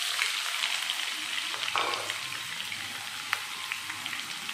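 Sliced onion hits hot oil with whole spices such as cinnamon and cardamom, making a loud, continuous frying sizzle with a brief surge as it goes in and occasional crisp pops, no voices.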